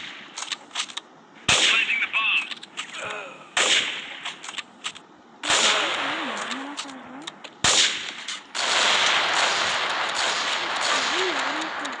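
Sniper rifle shots ring out in a video game as four sharp cracks spaced a couple of seconds apart, each followed by a ringing tail and game noise, while people talk over the action.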